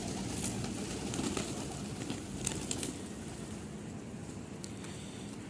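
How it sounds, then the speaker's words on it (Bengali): Jalali pigeons cooing steadily at low pitch under a broad outdoor hiss, with faint chirps from other birds above, the soft calls continuing throughout. "এই যে জ্বালালি কবুতর আছে"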